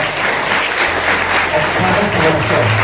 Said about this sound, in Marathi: विद्यार्थ्यांनी जोरात टाळ्या वाजवा